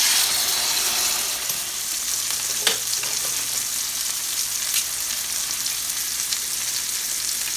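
A steak searing in a hot pan, a continuous bright sizzle with crackling spits, close and steady, one sharp click near the middle.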